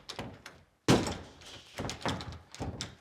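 Heavy thuds land on an already broken door in a vandalized house under renovation, several forceful close blows in an uneven rhythm with brief pauses between them.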